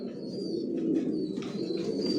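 Original racing pigeons of Johnson line in a loft, giving low throaty cooing that rolls on steadily and close by, with faint thin chirps above and no talking.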